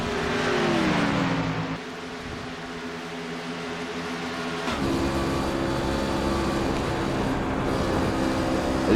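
Onboard Joe Burchett's racing truck, the engine drones steadily and loud, and its pitch shifts partway through as the driver lifts and then gets back on the throttle.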